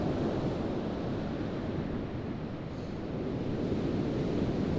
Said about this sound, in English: when C3PO finally gets past those breaking waves and looks happy to be swimming in the ocean